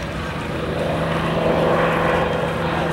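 A Fairey Swordfish biplane flies past at an airshow, its propeller engine droning steadily and swelling slightly as it passes, moderately loud and without talk.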